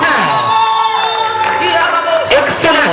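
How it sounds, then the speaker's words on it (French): A loud, close crowd cheers, whoops and shouts together in a dense, excited roar, with voices rising and overlapping throughout. "Des applaudissements, mes chers amis."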